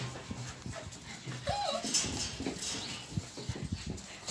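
Pembroke Welsh Corgi puppies in a new outdoor pen give soft, high whimpers and panting, with brief rising whines among light scuffling and handling noise close by.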